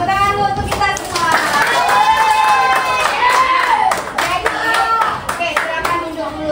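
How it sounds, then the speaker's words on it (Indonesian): Audience in a classroom learning session bursting into applause, a loud, close burst of many clapping hands sustained for several seconds, with children's voices and chatter mixed in as it tapers off. "tepuk tangan dulu untuk kita semua"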